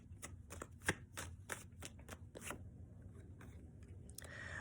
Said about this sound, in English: let's pull a few Lenormand cards